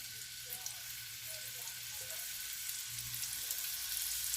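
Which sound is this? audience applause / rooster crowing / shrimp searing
shrimp searing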